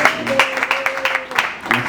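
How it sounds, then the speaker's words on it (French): A church congregation claps to welcome a bishop, a brisk series of separate claps with a sustained tone underneath, moderately close and steady for two seconds. "nous pouvons le recevoir par de bonnes acclamations"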